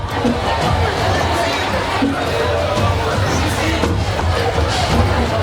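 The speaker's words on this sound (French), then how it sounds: "À présent, sous vos applaudissements" A school assembly crowd at a student government ceremony claps and cheers in a dense, sustained wash of applause and chatter, loud and close throughout.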